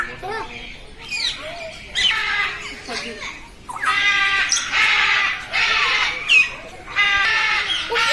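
Lovebirds at Rajkot zoo chirp in short bright bursts that come and go across the scene, with people talking nearby.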